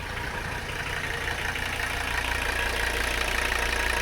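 A Mercedes 300CD engine sits at idle, a steady, even diesel rumble with a light knocking texture, close and continuous with no talking.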